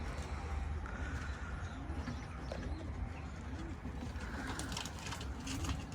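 Soft, repeated pigeon coos sound through steady background noise, with faint chirps and a low outdoor rumble throughout.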